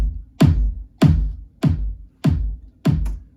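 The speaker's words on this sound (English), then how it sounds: "So we have a 4 on the floor kick." A four-on-the-floor EDM kick drum in Logic Pro X, side-chained in a future bass track, thumps five times at an even steady pulse, each hit deep, punchy and quickly decaying, alone without talk.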